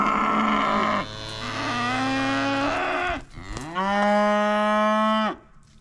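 Farm cattle mooing loudly and close, two long drawn-out calls separated by a brief pause, each a sustained low tonal bellow with no talking.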